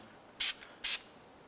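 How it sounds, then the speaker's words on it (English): Two short bursts of aerosol anti-seize compound hissing from a can onto a brake hub face, evenly spaced, against a quiet background. "I'm going to go ahead and spray some anti-seize compound"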